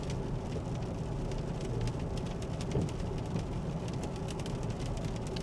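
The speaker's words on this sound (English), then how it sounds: "this looks like an all-rain event for us right now" Steady rain falls on Highway 24 in Cumberland County with temperatures near freezing, a continuous broadband hiss mixed with the low rumble of passing traffic, fairly constant in level throughout.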